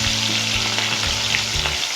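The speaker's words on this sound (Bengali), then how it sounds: "এরপর আমাদের মাছের পিসগুলোকে আমরা এক এক করে ভেজে নেব।" Pieces of foli fish fry in hot oil in a kadai, a loud steady sizzle and crackle filling the whole moment, with a low hum underneath and no voices.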